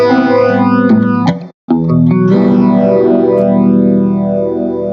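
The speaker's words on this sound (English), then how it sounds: "let's switch back to the phaser pedal" Electric guitar played through a Boss PH-2 Super Phaser pedal, loud strummed chords with a sweeping, swirling phase effect and slight distortion, one brief stop before the sound resumes; no talking.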